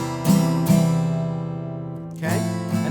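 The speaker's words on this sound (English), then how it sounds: "When I play a chord, it's more than one sound." Chords strummed on a guitar, several strings sounding together: two sharp strums ringing out and decaying, then two more strums near the end, close and clear with no talking.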